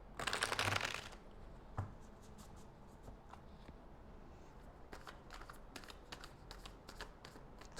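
A tarot deck is shuffled close by: one loud riffling burst at the start, then a string of soft card flicks and taps at an uneven pace in a quiet room, with nobody talking.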